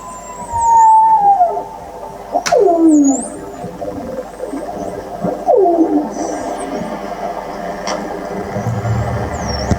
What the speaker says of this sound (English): that was the sound of whales that you could hear in that video.